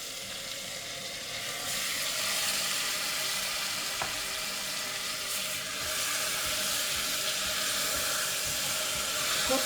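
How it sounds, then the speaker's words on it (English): Marinated mutton pieces fry in ghee and onion masala with a loud, dense, steady hiss that swells slightly after the first couple of seconds and holds, with only a faint stray knock and no voices. "And to this we will add the marinated mutton pieces"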